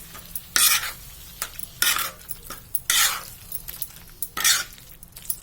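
Pav bhaji with masala, salt, coriander and tomato being mixed in a pan, a faint sizzle under four or five loud bursts of scraping spatula strokes with light metal clinks, close and without speech.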